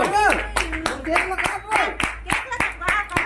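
Sharp, rhythmic hand claps repeat steadily and close by at a birthday party in Raipur, Chhattisgarh, India, while voices chatter and sing over them.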